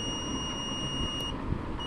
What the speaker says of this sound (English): I'm going to connect the positive voltage from the buzzer to the push button, and as you can hear, it is ringing